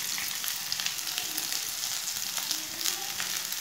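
Onion and ginger paste frying in a pan, a steady, close sizzle with faint crackling and stirring and no talking.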